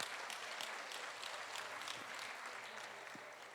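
Steady, dense audience applause at a shellfish festival cooking competition, heard from a distance at low level with occasional crisp claps rising above the wash.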